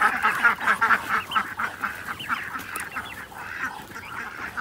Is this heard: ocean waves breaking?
no